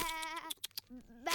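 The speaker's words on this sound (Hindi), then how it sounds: "अरे, वो मेरी भेड़ें हैं।" Animated sheep bleat in a cartoon herding scene, a short wavering cry up front, then choppy bursts and a second bleat rising at the end, close and fairly loud.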